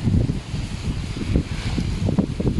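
Strong typhoon wind on a beach buffets and roars steadily across the microphone, a continuous low rumbling gust with no voices.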